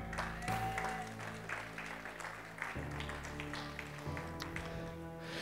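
A church congregation claps and cheers together to praise the Lord, a steady burst of applause with organ or keyboard chords sustained underneath, filling the room at moderate loudness for several seconds.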